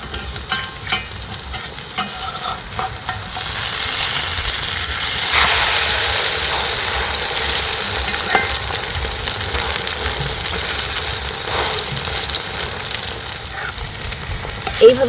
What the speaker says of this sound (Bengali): এইভাবে কিন্তু 2 পিঠ লাল লাল করে ভেজে নিয়েছি।